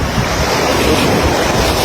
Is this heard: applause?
no